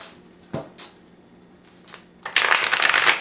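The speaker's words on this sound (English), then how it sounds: "riffle shuffle" A Minchiate tarot card deck being riffle shuffled close up: a couple of soft taps and card handling, then a loud, fast burst of fluttering cards snapping together near the end.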